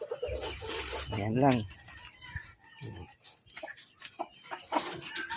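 Chickens cluck and squawk inside a chicken coop, close and irregular, with a drawn-out call mid-way, while a person talks in the foreground.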